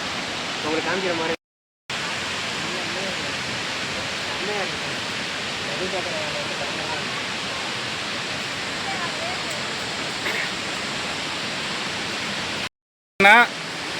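A river flows near the Aagaya Gangai waterfall in the Kolli Hills, a constant, dense rush of water that fills the whole stretch, broken only by two brief dropouts.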